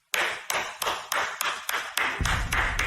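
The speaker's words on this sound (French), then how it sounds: "Applaudissons-la." A handful of office coworkers clap for a colleague's promotion to team leader, with sharp, evenly spaced claps about every third of a second, close and fairly loud, joined by a low rumble near the end.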